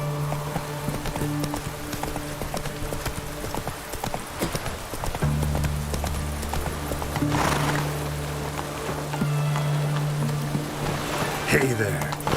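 Hooves of Roach, a horse in The Witcher 3 video game, clip-clop steadily at a gallop over a game soundtrack, with a brief whinny near the end and a voice speaking over the scene.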